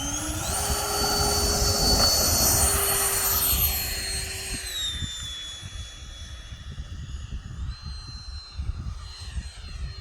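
A 95-inch FunScale FA-18C RC box jet model flies past on its second flight, its loud, steady electric-fan whine rising and then sliding down in pitch as it recedes, fading into softer wind noise.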